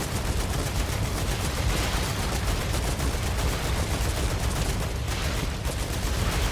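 Sustained, dense automatic gunfire from weapons in the video game Star Rupture, loud and continuous with rapid overlapping shots and no pauses.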